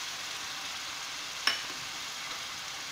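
Onions frying in a pan for a sardine kofta tagine, a steady soft sizzle with one brief sharp scrape of a stirring utensil midway.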